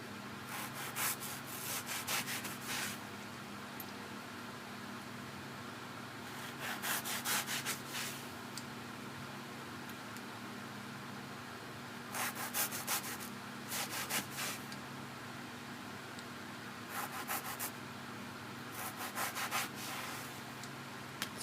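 Car wash sponge being cut into sections, with repeated short bursts of rough rasping and rubbing strokes in clusters separated by quieter pauses, close and fairly soft, with no talking.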